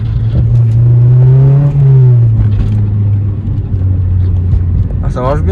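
A Honda Civic Type R EP3 four-cylinder engine revs loud and close from inside the car, its pitch climbing and holding as VTEC engages, with occupants talking over the engine.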